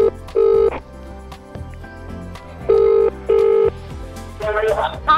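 Phone call being placed: loud, evenly spaced bursts of dialing tones, four distinct beeps in two pairs, alternating with quieter ringback and background noise while a voice speaks briefly near the end.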